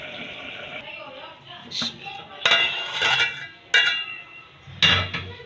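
Bhindi gosht being served out, with a few sharp metallic clinks and scrapes of a spoon against the pot and dish, close and clear over a light background hiss.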